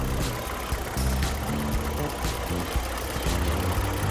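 A 2.7-litre petrol Hyundai Grandeur engine with about 170,000 km idling up close, a steady low rumble with a faint ticking rhythm running through it.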